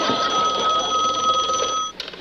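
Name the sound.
telephone ringing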